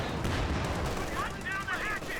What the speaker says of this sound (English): Bazooka fires.